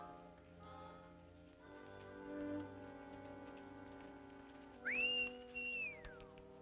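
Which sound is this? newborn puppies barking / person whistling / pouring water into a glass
person whistling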